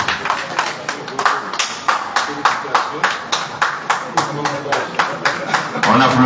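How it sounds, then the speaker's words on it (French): A ceremony audience applauding at an event for youth digital-education ambassadors, the clapping falling into a regular rhythmic beat with sharp, evenly spaced strikes, accompanied by voices. "On applaudit, on applaudit"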